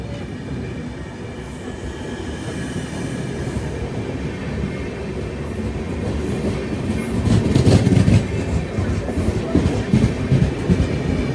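A passenger train pulling away on rails in India, its steady low rumble building as it gathers speed, with rhythmic clatter and some squeal heard from on board, no talking.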